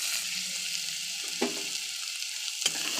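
Spice paste of ginger, garlic, dried chilli, onion, tomato, turmeric and salt frying in a pan, a steady close sizzle with two brief sharper spatters or stirring knocks.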